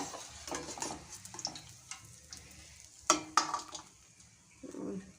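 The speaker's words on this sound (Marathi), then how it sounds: "दुसऱ्या साईडने सुद्धा तळून घेऊया बघा अगदी झटपट तळून सुद्धा झाल्या" Sesame and jaggery puris deep-frying in oil over a medium flame: a soft, fairly faint sizzle broken by a few sharp utensil clicks and taps, with no talking.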